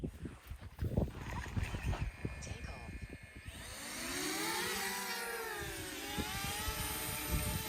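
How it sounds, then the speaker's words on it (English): Small DJI Mavic Mini drone taking off over a reservoir, its rising whine of rotors settling into a steady, fairly loud buzz with sweeping pitch changes, after a noisy start with wind and handling sounds. "we're going to stick the DJI Mavic Mini up in the air as well"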